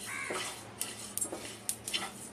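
Coriander seeds dry-roasting on a tawa over medium heat, with a spatula scraping and clinking against the metal in a quick run of sharp taps and rattles, fairly close and without talk.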